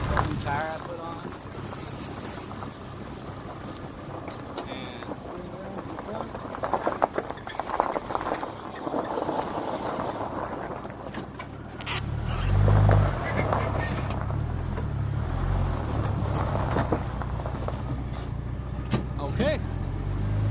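A car engine idles after a tire change, a low steady rumble that grows louder and rougher midway, mixed with wind buffeting and a person talking.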